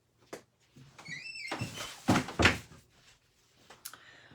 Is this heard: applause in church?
no